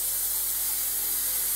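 A Haas MQL atomizer nozzle set inside a closed machine enclosure sprays lubricant mist toward the tool, making a constant, even, airy hiss with no break from start to finish.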